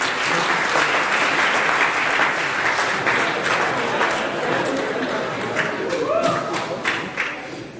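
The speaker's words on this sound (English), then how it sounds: "Give them a round of applause, ladies and gents." Loud, sustained applause from an audience fills the whole stretch, dense clapping fading slightly toward the end.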